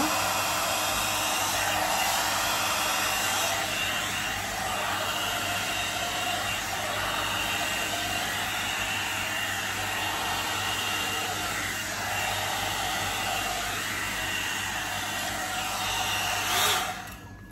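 An Agaro volumizer hair dryer runs on its medium setting, a steady close whooshing airflow with a constant whine that holds unbroken and switches off near the end; no voices.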